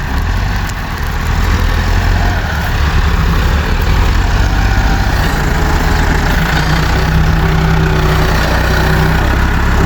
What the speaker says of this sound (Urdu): پیچھے سے وہ والا ٹریکٹر دھکا دے رہا ہے۔